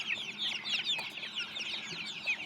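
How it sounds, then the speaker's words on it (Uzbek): Andijan black hens and Adler silver chicks, just over a month old, cluck and cheep together in a busy, continuous chorus of high calls with occasional rustling, no talk over it. "Andijon qora tovuq va Adler Cerebrist"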